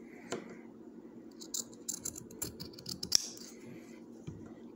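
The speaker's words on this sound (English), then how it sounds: "I am going to trim it just a tad closer." Scissors trimming the edging of cross stitch fabric, a few quiet, close snips and soft scraping against faint room noise.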